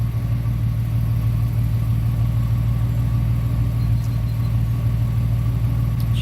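A 1997 Ford Mustang V6 with split dual exhaust idles in a steady, deep low rumble, close and even throughout, with no talking.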